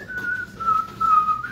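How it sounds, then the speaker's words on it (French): A person whistles a slow, wavering tune, one clear steady note gliding gently up and down in short phrases, close by and alone with no talk. "Quand tu siffles, c'est que tu te sens super bien."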